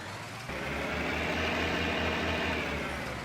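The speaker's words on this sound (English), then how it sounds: "Good looking tractor. This one is a bit loud, so prepare yourself." A loud tractor engine in Farming Simulator 19 idles with a heavy, rhythmic low chug that kicks in abruptly and runs steadily throughout.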